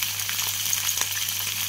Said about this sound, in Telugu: ఇప్పుడు పచ్చిమిర్చి వేసేస్తున్నాము